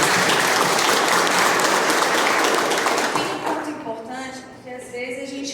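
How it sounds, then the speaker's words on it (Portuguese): A congregation at an adult confirmation class applauds loudly and steadily, the clapping thinning out near the end as a voice resumes speaking. "Uma salva de palmas para você."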